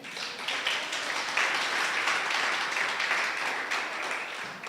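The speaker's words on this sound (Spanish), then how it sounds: "Dale un aplauso al Señor." Church congregation applauding during a Spanish-language sermon, a steady wash of many hands clapping at moderate distance that swells slightly midway and continues alone without talk.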